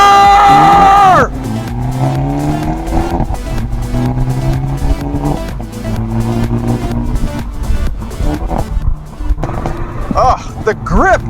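A 2022 Hyundai Elantra N with a twin-scroll turbo engine revs hard through cornering, its engine tone rising and falling in loud harmonic sweeps while a voice talks over much of it.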